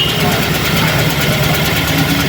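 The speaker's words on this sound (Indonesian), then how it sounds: "Keluhan mesin pincang dan juga tarikan berat ya." A Toyota Avanza engine with a limping, misfiring fault idles roughly, a steady close mechanical drone with a slightly uneven pulse and a faint voice beneath it.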